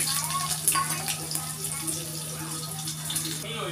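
Garlic cloves frying in a pan alongside chopped onion, giving a steady watery crackle and sizzle with faint stirring scrapes, alone and close throughout.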